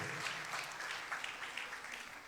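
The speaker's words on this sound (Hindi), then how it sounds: "आपकी जोरदार तालियों के साथ मुबारकबाद पेश करते हैं" Church congregation applauding at a Capuchin thanksgiving Mass at Saint Clare Parish, Henry K, a steady wash of clapping held at a fairly low level throughout with no voices over it.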